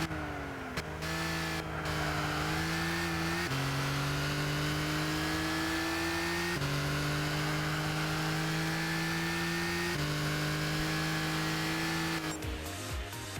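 A car engine in Gran Turismo 6 revs up toward the red line repeatedly, loud and close, its pitch climbing through each gear before short shifts drop it back.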